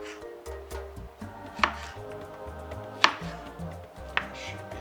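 Knife slicing garlic cloves on a cutting board, a few soft irregular taps with three sharper chops standing out, close and moderately quiet.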